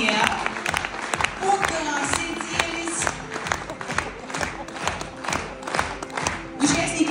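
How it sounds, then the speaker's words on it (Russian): At an awards ceremony and leadership conference, the audience applauds enthusiastically as a team of mentors comes up onto the stage, with rhythmic, pulsing clapping and thuds mixed with background music while a presenter speaks over it. "Бурные аплодисменты, структуры, приветствуем своих наставников"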